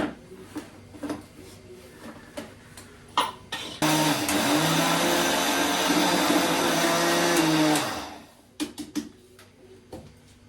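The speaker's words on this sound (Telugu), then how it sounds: "ఇంకొకసారి అయితే గ్రైండ్ చేసేసుకొని మొత్తం కలుపుకుంటే సరిపోతుంది." A kitchen mixer grinder grinds jaggery with flour in a steady, loud whirring burst of about four seconds, then winds down, with scattered knocks and handling clatter before and after.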